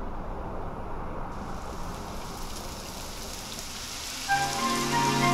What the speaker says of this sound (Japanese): やだ、雨が降ってきたわ。